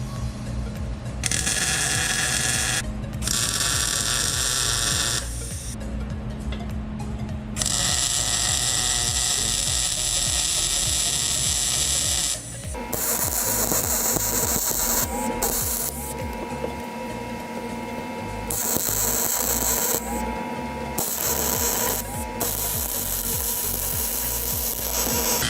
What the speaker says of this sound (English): we're gonna take a die grinder and we'll grind out the rest of it smooth